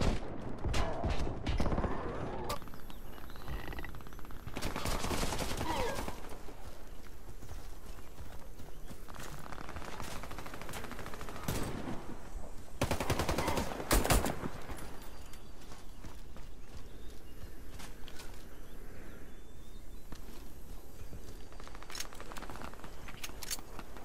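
Pistol gunfire in the video game Warface: scattered sharp shots and short bursts come over continuous in-game background noise, with the loudest cluster partway through.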